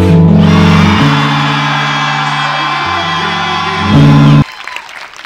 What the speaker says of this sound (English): Gratitude scream on 3.